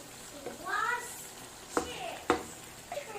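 Chicken curry simmering and frying in a pan after chicken liver is added, with a steady sizzle under a voice, plus two sharp stirring clinks and scrapes of the utensil against the pan.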